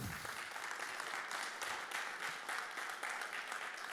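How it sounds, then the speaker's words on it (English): Steady applause from a crowd, a dense wash of clapping hands that continues evenly throughout. "Let's give applause"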